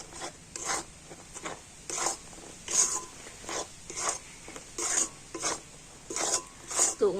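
A spoon works milk powder into a takti pitha mixture in a pan over low heat, producing repeated rasping scrapes in an uneven rhythm, close and moderately loud, with no voices.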